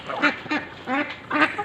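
Ducks kept in a backyard flock with chickens and peacocks quack four times in quick, uneven bursts, close and fairly loud, with no talking.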